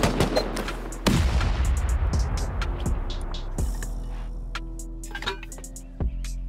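Automatic turret gunfire in a loot-room raid video game: sharp bursts of shots echo through a noisy battle, with a heavy shot near the start and another near the end over a constant rumbling background.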